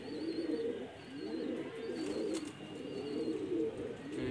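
A pigeon coos in repeated soft, rolling phrases while being caught by hand atop a factory roof, fairly close, with a faint high whistle-like tone in the background.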